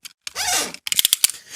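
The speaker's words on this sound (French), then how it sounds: "je vais essayer, je pense, de couper le cuir là" Scissors cut through the leather of a steering wheel cover up close: one longer rasping slice, then a quick run of five or six crisp, sharp snips.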